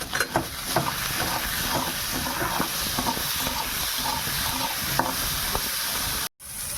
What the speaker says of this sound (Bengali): পেঁয়াজ বন্ধুরা ভাজা হয়ে গেছে